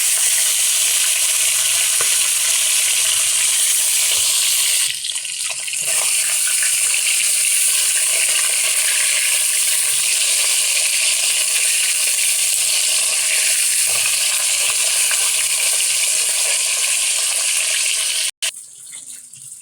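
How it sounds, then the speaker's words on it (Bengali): A katla fish head frying in plenty of hot oil, a loud, dense, continuous sizzle with crackling spits, briefly easing and flaring as it is moved in the pan, then cutting off near the end. "তেল গরম হয়ে গেছে, মাথাকে আমি আগে ভেজে নিচ্ছি"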